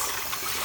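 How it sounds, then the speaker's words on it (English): Cold faucet water rinsing whole fresh walnuts, a steady, close, fairly loud hiss of running water with no pauses. "Make sure that always you put cold water. Rinse one more time like this"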